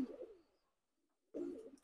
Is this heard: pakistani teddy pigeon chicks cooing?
yes